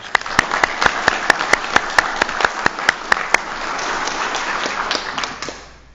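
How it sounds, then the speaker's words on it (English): A room full of people applauds at a municipal board meeting after a young Scout working toward Eagle is introduced; dense steady clapping with a few sharp nearby claps standing out, fading away at the end. "Just give him a round of applause."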